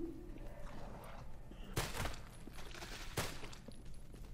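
Gunshots in a video game, two sharp broadband bursts about a second and a half apart, standing out over a low background rumble with no talk.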